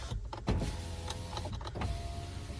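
Electric power windows of a Volkswagen Touran 1.6 MPI whir up and down in a couple of motor runs, with clicks and a thump in between, close and fairly loud with no one talking.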